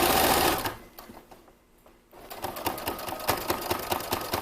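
A sewing machine stitches a waistband on a vintage jumper, running loudly at first, stopping for a moment, then starting up again with a fast, steady mechanical rattle, close by and with no voices.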